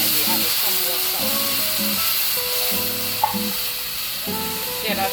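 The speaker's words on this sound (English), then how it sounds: "that sizzle" Chicken curry cooking in a pot gives a steady, loud sizzle and hiss, while a faint tonal hum runs underneath.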